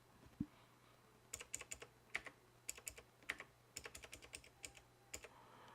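A number is typed on a computer keyboard in quick, quiet bursts of crisp key clicks, with short pauses between clusters of strokes and no talking.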